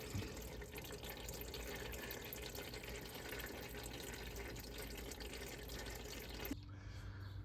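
Engine oil from a 5th-generation Toyota 4Runner drains in a steady, even stream into a drain bucket, a continuous liquid rush that stops abruptly near the end.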